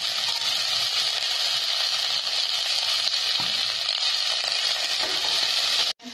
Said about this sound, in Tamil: அரைஞ்சி வச்ச வெங்காயத்தை போட்டுக்கணும்